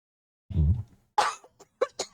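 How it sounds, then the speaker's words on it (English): A person's cough, heavy and congested, with one deep chesty burst followed by a few shorter, sharper hacks, close up and alone. "Damn this cough."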